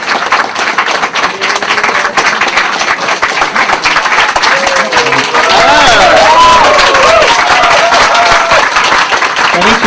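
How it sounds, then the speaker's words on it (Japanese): Loud, close applause and clapping from a crowd at a fan event in Tokyo, continuous for ten seconds with a few voices and cheers rising over it toward the end. "江戸川ライト監督がつきましたので拍手をお願いします。"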